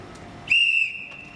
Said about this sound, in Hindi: जैसे मैं सीटी बजाऊँगा ये प्ले शुरू